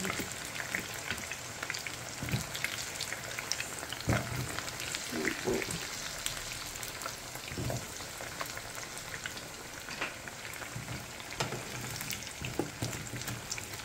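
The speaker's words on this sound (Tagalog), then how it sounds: "Yan po yung ating kamote ngayon po. Mainit na po kasi yung mantika." Sweet potato (kamote) frying in hot oil, a continuous close sizzle with crackling pops scattered throughout, no talking over it.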